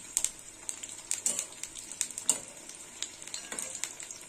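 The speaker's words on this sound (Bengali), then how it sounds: "এই পটলটা ধিমে আছে ভাজতে হবে।" Pointed gourd, lightly salted, frying slowly over low heat in a pan, giving a steady close sizzle with crackling pops and occasional scraping stirs, with no voices.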